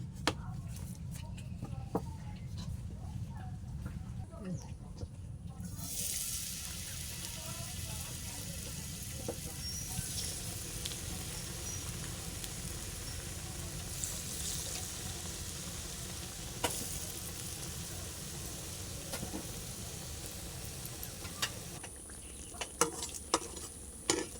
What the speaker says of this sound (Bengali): তেলটা গরম হয়ে গেলে পিঠাটা ছেড়ে দেবো